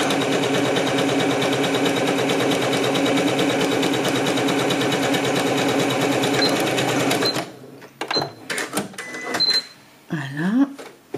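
A sewing machine running at top speed stitches the sides of a square fabric face mask, a dense, steady whir that ends abruptly at about seven seconds, followed by a few quiet handling noises.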